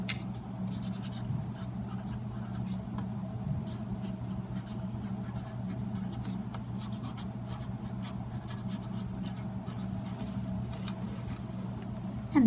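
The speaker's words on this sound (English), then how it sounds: "you can use your Sharpie marker to write your name on front" A Sharpie marker writes a name on the front of a handmade notebook, giving soft continuous scratchy strokes over a low steady hum, close and quiet, with no talking.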